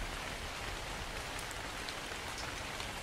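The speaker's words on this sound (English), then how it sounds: "But it's still raining." Steady rain falls in the survival game Ark Survival Evolved, a dense, even hiss of drops on surfaces, close and constant throughout with no talking.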